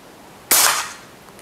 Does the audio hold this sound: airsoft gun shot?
yes